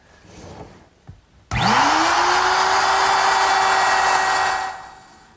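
A router fitted with the same bit used on wood veneer spins up abruptly and holds a steady, loud, high-pitched whine for about three seconds, then spins down. Some faint shop noise comes before it.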